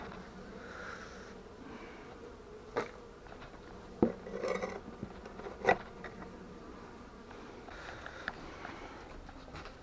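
Buckfast honey bees hum faintly and continuously at an apiary during a spring hive inspection, with a few sharp clicks and knocks of frames and tools breaking through the low buzz.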